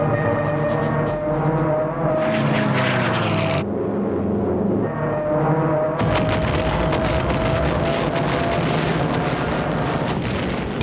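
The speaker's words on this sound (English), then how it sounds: "As the Japanese aircraft dived into the attack" World War II Japanese aircraft diving into an attack on US forces on a Sunday morning: a loud, dense roar of engines with a pitch that bends downward as they dive, under continuous rumbling booms and blasts.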